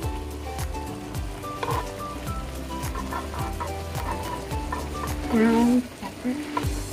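Chili tossed into chicken wings adobo frying in a pan, with steady sizzling under a run of rhythmic stirring clatters and scrapes close by, loud throughout.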